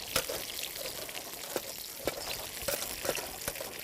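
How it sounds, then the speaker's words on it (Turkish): Sour cherry mixture pressed through a strainer makes soft wet squelches and trickling drips, with irregular sharper scrapes and clicks of the utensil against the mesh, close and quiet. "Şimdi bunu posasından kurtulmak için bir diğer yanda gördüğünüz gibi bir süzgeç yardımıyla"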